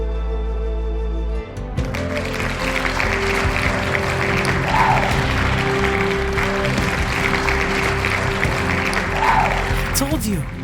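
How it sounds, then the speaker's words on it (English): A crowd applauds in the Roblox Brookhaven game after a flute performance, a steady wash of clapping that begins abruptly and runs loud throughout, with a person speaking over it. "Wow, they're clapping for me."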